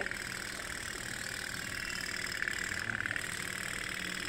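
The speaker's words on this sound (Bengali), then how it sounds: "সোনা ট্রলার তো ভালোই চলছে" A toy trawler boat's small engine runs steadily on water, giving a continuous close whirring drone with no break and no talking.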